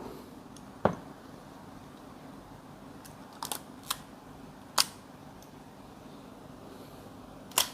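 A Nikon F film camera set to bulb gives sharp, isolated mechanical shutter clicks, about six of them spaced irregularly over a quiet room hiss, close and crisp.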